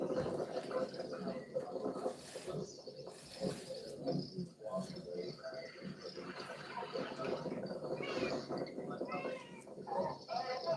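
A cat meows several times, close and plaintive, with the calls rising and falling over a low background hum.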